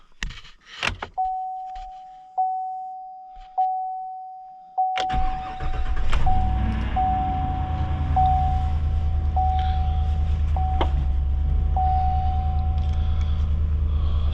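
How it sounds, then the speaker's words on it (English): A 2021 GMC 2500HD with the 6.6L gas engine, cold-started at about minus 12 degrees: a repeating door chime, then the engine cranks, catches and settles into a loud, steady idle rumble, close by. "Let's see how good this baby starts when she's cold."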